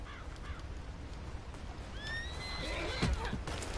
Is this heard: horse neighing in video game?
yes